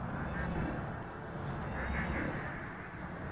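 A spaceship in the Elite Dangerous video game sets down with its landing gear lowered. A steady low engine drone and rumble hums throughout, fairly loud and continuous, with faint higher whooshes over it.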